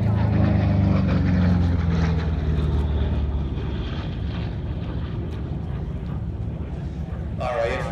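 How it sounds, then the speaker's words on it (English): A Boeing B-17 bomber comes in to land at an air show, its propeller engines droning loud and steady throughout, with a sharper burst of noise near the end. "Here, the B-17 is coming into land."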